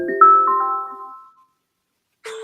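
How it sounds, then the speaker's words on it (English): A phone ringtone plays near and fairly loud, a short melodic tune of sustained tones that rings out and fades, then after a pause a brief burst of the tone returns at the end. "that's my phone. I'm getting a call."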